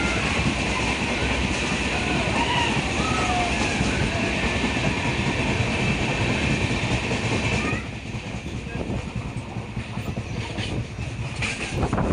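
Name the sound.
train travelling through the Satpura hills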